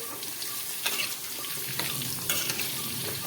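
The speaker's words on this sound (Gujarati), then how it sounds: "હવે આપણે ડાંભાને સારી રીતે મિક્સ કરી દઈએ।" Dambha (a Kathiyawadi vegetable) stirred with salt and turmeric in a hot pan, a steady close sizzle broken by a few scraping spoon strokes over about three seconds, with no voices.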